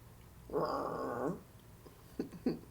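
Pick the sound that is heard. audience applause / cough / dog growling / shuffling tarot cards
dog growling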